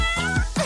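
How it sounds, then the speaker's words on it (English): A cat gives a short, clear, close meow, loud and alone with no talking. "A kitty."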